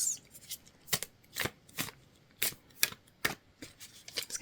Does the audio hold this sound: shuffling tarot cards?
yes